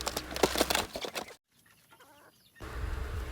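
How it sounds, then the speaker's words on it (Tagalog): Chickens jostling over feed, soft clucking amid rustling and scratching, then a brief near-silent gap before the scratching noise returns. "Ito na nga't nag-aagawan na yung aking mga manok sa pagkain nila."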